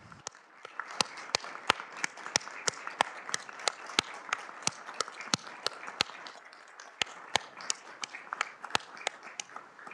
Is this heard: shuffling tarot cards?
no